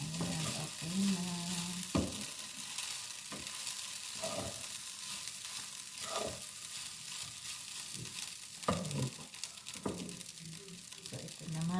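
Garlic fried rice sizzles and crackles steadily in a hot pan while being stirred, with repeated scraping knocks of a utensil against the pan and faint talk in the background.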